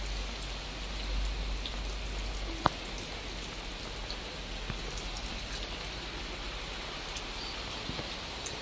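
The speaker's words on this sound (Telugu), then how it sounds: "చూడండి, వర్షం ఇంకా పడుతూనే ఉంది." Steady rain falls throughout, a continuous even hiss of drops on surfaces with one brief sharp tap partway through and no voices.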